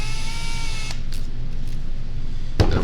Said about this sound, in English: I'm gonna use that hole and drill in to this board a little bit so that way it doesn't split that board out.